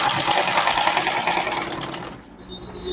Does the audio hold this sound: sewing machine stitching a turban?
yes